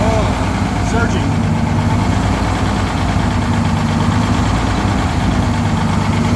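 A classic Detroit Diesel engine, back after 25 years off the road, idles loud and close with a rough, surging rumble that never drops away.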